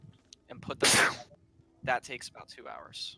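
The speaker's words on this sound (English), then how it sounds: "Bless you, whoever sneezed." A single loud, sharp sneeze bursts out during a tabletop role-playing game session, briefly rising above ongoing conversation, with people talking before and after it.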